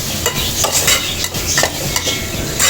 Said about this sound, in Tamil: கொஞ்சம் காஷ்மீர் சில்லி பவுடர் இதெல்லாம் போட்டு நல்லா கிண்டி விட்டுருவோம்.